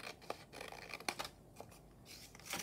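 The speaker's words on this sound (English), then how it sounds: "I'm just going to go with my trusty scissors" Scissors snip through paper scraps for a mini junk journal booklet, several quiet close crisp cuts with small rustles between them.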